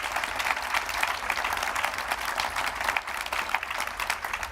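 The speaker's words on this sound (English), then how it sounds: "Please, a round of applause for my panel." A conference audience applauds a panel, a dense, steady wash of many hands clapping that carries on evenly from start to finish.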